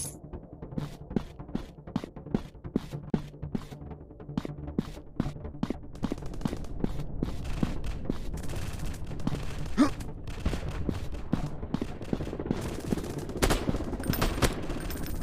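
Gunfire rings out in the shooter game PUBG as rapid, sharp bursts of shots crack repeatedly throughout, sometimes in quick automatic strings, over a busy background of game noise.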